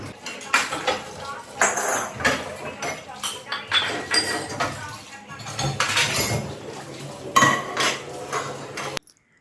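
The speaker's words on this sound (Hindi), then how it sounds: "तो यहाँ पे मैं नाश्ते के बर्तन वॉश करूँगी" Breakfast dishes and utensils being washed at home, with irregular clinks of cutlery and clatters of pots and plates, moderately close, under someone talking intermittently.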